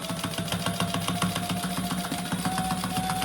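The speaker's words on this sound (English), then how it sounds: "So I'm going to sew down that," A sewing machine stitching down card slots on a clutch wallet, running steadily with a fast, even mechanical rhythm of needle strokes, close and continuous without pause.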